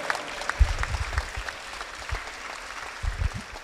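Audience claps for an award winner from the Laser Fusion company at an innovation prize ceremony, a moderate, somewhat sparse patter with a few louder bursts, no speech over it.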